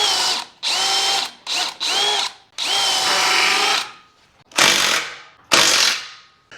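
A power drill drives lag bolts into boat trailer bunks on a 1448 jon boat, whirring in several loud, close bursts of varying length separated by short pauses.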